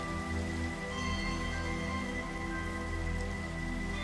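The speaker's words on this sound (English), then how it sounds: "it rains all the time in my worlds" Rain falling in a Minecraft-style video game world, a continuous dense patter of rain on surfaces with a steady hiss and no pauses, alongside a faint tonal hum.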